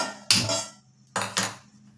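A metal pot set down on a lit gas stove, giving one sharp clank followed a moment later by a quick double clatter, close and fairly loud with nothing else heard.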